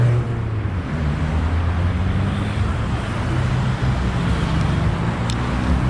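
Heavy city traffic on a crowded Tbilisi street: a dense, unbroken wash of car engines and tire noise close by, holding at a steady level throughout.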